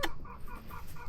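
Chickens clucking at close range, a few short soft calls spread over about a second with no voices, on a farm where the flock is guarded by Abruzzese shepherd dogs.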